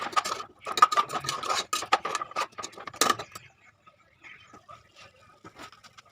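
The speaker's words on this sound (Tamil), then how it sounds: "வெட்டி வச்ச முருங்கைக்காயை குக்கரில் சேர்த்து நல்லா கிளறி விட்டுடலாங்க" Chopped drumsticks being stirred in a pressure cooker, giving a close series of scraping, rubbing clatters that fade to softer, sparse taps.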